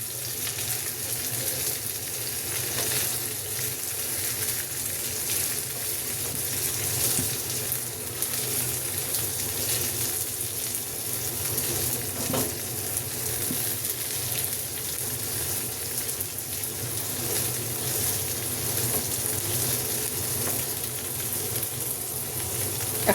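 Onions and chopped coriander leaves fry steadily in hot oil for a nihari tempering, giving a continuous close sizzle with faint stirring and no talk.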